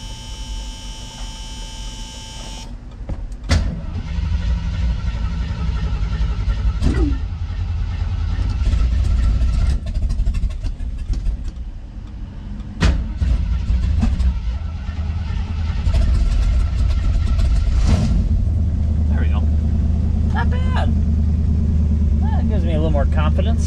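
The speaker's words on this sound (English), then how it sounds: "Starts up, puff of black smoke out the exhaust pipe, so that's good" An AMC Gremlin fitted with a rebuilt AMC 360 V8 cranks and fires up, then settles into a loud, rumbling idle close by that holds steady to the end.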